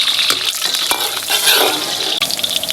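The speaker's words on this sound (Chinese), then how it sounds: "葱干辣椒爆香" Scallions and dried chili peppers stir-fry in a hot wok, giving a steady, loud sizzling hiss with light scraping and clinking throughout, no voices.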